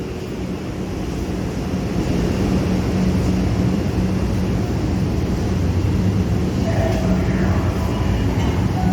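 A Manhattan subway train rumbling in a station, a steady, loud, broadband roar throughout with no clear breaks.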